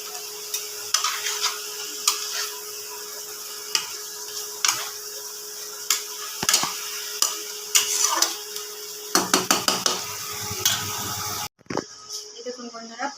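Pomfret fish frying in hot oil in a pan for a Bengali oil-and-chili fish dish, a steady sizzle throughout with repeated clinks and scrapes of a utensil against the pan, growing louder near the end.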